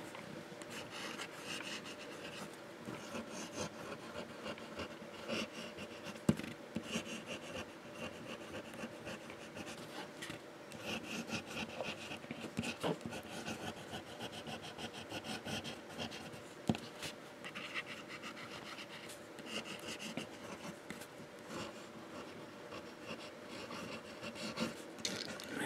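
A vintage Waterman fountain pen with a wet medium nib writing on paper, a faint, close scratching and rubbing of nib strokes with small taps, continuous and without talk.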